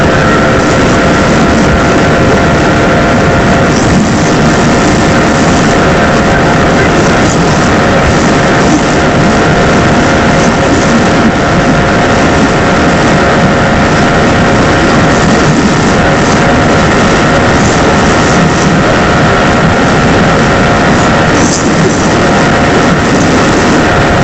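Bajaj Pulsar NS400Z motorcycle engine droning loud and steady under hard acceleration, a dense continuous roar with heavy wind buffeting throughout and no break in the sound.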